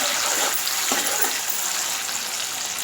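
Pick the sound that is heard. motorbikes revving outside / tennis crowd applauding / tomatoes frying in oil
tomatoes frying in oil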